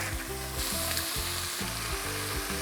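Vegetables sizzle and crackle in hot oil in a pan, a loud steady frying hiss with repeated rhythmic scraping as the pan is stirred.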